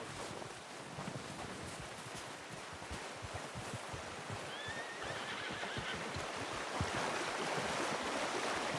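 A horse in the Red Dead Redemption II video game gives a brief whinny, partly buried under a loud, constant rushing noise like wind and surf, with soft hoof clops scattered throughout.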